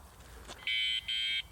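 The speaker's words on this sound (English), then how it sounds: "it gives you a bit of a warning tone, and then if you decided to move the wheel again, it kicks into that alarm" Leaperkim Lynx electric unicycle sounding its anti-theft warning tone when moved: two loud, steady high-pitched electronic beeps, each lasting about a third of a second, separated by a brief gap, close and clear.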